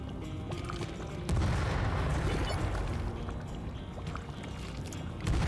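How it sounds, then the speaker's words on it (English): Dynamite blasts in the space game Astroneer: a loud, sustained burst of rumbling explosive noise that swells suddenly and fills the clip, with a second boom rising near the end. "Boom. 2 explosions."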